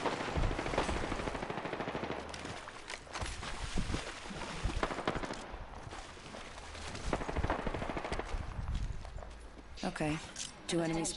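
Video game gunfire as two squads fight, bursts of machine-gun and rifle fire rattling at a distance under steady talk and game noise.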